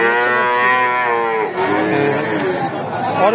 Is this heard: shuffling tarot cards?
no